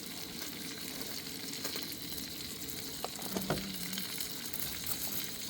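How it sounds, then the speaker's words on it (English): Burgers topped with melting cheese sizzle over a campfire outdoors, a steady close hiss of frying with a brief faint scrape or stir partway through, no talking. "the burgers have cooked down pretty good. Now we're gonna let the cheese melt a little bit"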